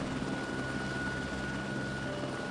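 Steady helicopter rotor and engine drone from the video game eden*, a continuous even whir with a faint high whine, heard alone and close throughout.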